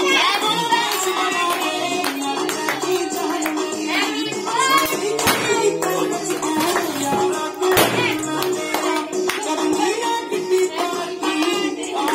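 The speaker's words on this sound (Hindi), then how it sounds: "ताली बजा" A group of people clap at a child's birthday party, with uneven overlapping handclaps carrying on steadily and a few sharper louder claps, while soft voices sit faintly underneath.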